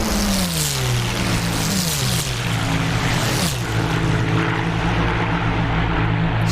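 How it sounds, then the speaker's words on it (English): WWII propeller planes roar in a naval battle game, a loud, dense engine drone with pitches sliding downward as aircraft swarm and pass. "Poosh has got about 50 planes chasing him"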